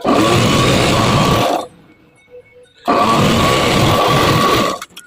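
A sewing machine stitching a princess-cut blouse seam runs in two loud, steady motor bursts separated by a short quiet pause.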